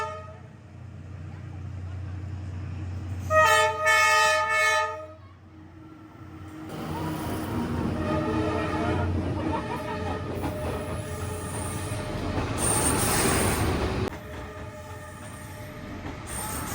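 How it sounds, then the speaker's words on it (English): A train rumbles past in Hanoi's Old Quarter, Vietnam, with squealing wheels and a short horn toot, the clatter rising and lingering in the open air. "The train only comes a few times a day"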